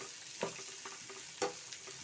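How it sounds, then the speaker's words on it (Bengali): Lentil dumplings (bori) fry in a pan with a soft, steady sizzle and two sharper stirring scrapes, no voices present. "এবার আমি এগুলোকে তুলে নিয়ে বড়িটাকে একটু সেপারেটলি ভেজে নেব।"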